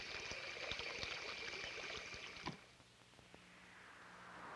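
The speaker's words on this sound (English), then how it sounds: "we wash the print with water" Water running over a photographic print in a darkroom wash: a steady close hiss and trickle that stops abruptly halfway through, leaving a quiet hum and a few faint drips.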